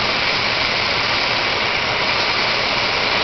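An AgieCut 120 wire EDM machine runs with a steady, loud mechanical hum and hiss while its brake wheel speeds up, a continuous drone with no talking.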